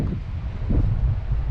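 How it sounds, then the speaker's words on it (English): Steady outdoor wind buffeting the microphone in Quartzsite, Arizona, a low rumbling roar that swells and eases without a break. "It's really windy outside."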